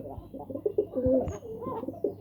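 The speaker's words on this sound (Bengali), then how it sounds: "কোকার সাথে অন্য কবুতার দেখতেছি পালন করা যায় না" Pigeons in a loft coo softly and repeatedly close by, a string of low throaty calls in quick succession.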